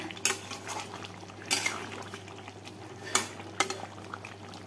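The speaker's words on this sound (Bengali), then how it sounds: "বন্ধুরা এখন এখানে এই যে মাংস কষানো হচ্ছে" Meat being sautéed and stirred in a pan, with four or five clanks of a spoon against metal over a soft bubbling sizzle, fairly quiet and with no talking.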